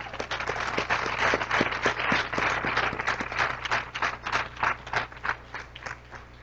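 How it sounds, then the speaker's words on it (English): Audience applause in a room at a Kin Canada club gathering: dense, steady clapping from many hands that holds from start to finish and fades only slightly toward the end. "So let's give everyone a round of applause for that."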